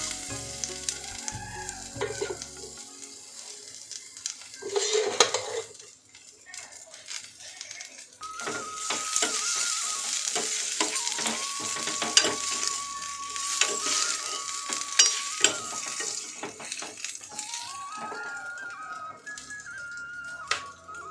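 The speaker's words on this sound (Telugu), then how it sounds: "నేను మాత్రం ఇలా కాస్త నత్తలను ఆయిల్లో కాస్త ఫ్రై చేస్తాను" Dried snails fry in oil in a pan with a steady, close crackling sizzle that grows busier partway through, while a person talks over the cooking.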